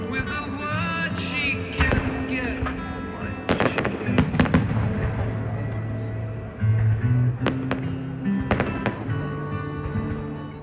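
Fireworks pop and crackle repeatedly on 14 July over the banks of the Moselle, with sharp bursts scattered over a steady crowd murmur and low rumbling booms.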